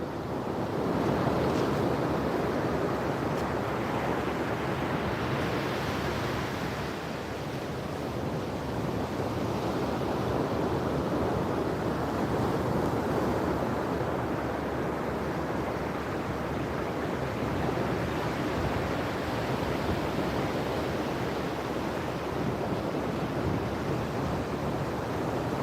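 Ocean surf breaking on a Florida beach at Amelia Island, a loud, continuous roar of waves with gusty wind noise buffeting the microphone, rising and falling gently throughout.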